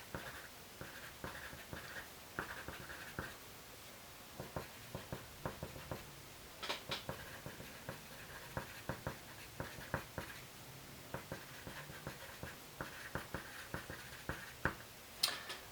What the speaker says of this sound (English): compass on M, or the vertex. Draw arc that intersects both sides.